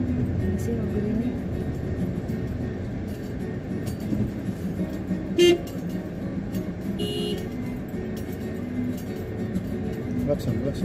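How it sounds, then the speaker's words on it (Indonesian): Short car horn honks sound against a steady rumble of city traffic in Palembang, Indonesia, with people talking inside the vehicle. "Klakson, klakson."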